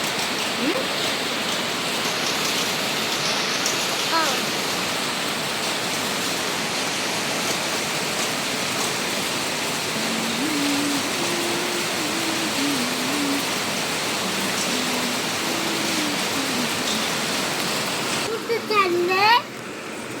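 Steady heavy rain pours in Pune with a dense, constant hiss, while a voice speaks faintly underneath now and then.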